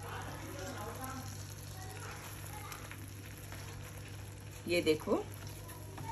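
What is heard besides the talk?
jackfruit pieces frying in masala over the fire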